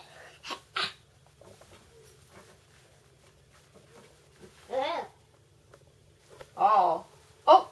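A child sneezes in a short, sharp burst within a quiet room, with soft voices and small vocal sounds scattered around it.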